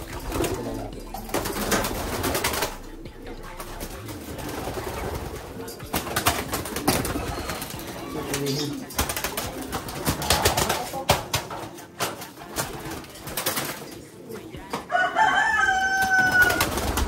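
Pigeons cooing in a backyard pigeon loft, steady soft coos and flutters throughout with handling noise, a rooster-like call near the end and a little talk.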